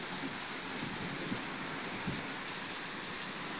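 Hail pours down during a hailstorm in Punjab, making a dense, steady patter and hiss on surfaces with a few faint knocks and no talk.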